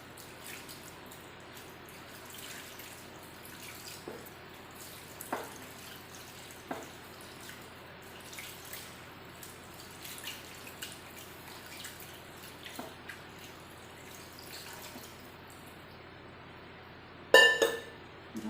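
Something is washed by hand in cold water: faint trickling and scattered drips in a quiet room, broken by a few soft splashes and a sharper clink near the end.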